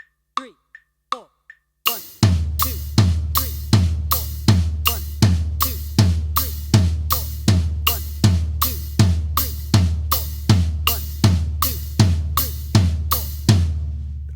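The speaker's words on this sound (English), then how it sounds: "We're gonna play the hi-hat on the quarter notes," Drum kit groove with hi-hat on quarter notes alternating with floor tom on the upbeats, a steady back-and-forth of crisp hats and deep tom hits, preceded by a few sparse count-in taps; loud and close with no talking.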